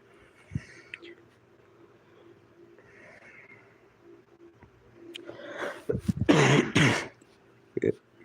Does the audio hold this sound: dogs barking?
no